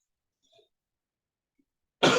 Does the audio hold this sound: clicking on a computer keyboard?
no